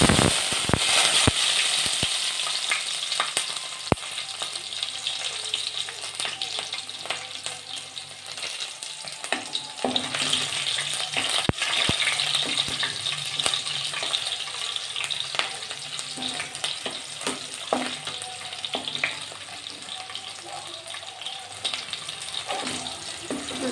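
Cumin, onion and green chilli fry in oil in a kadai for vegetable fried rice. A continuous close sizzle runs throughout, broken by scattered pops and spatters and occasional stirring. No one speaks.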